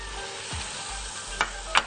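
Chicken sautéing in a pan gives a steady low sizzle, punctuated by a couple of brief stirring scrapes near the end.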